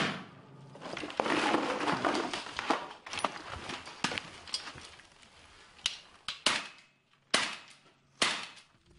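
Sharp gunshots crack from soldiers' positions near a tree line in a frontline area, a few scattered early then several loud, distinct reports spaced apart toward the end, with no voices.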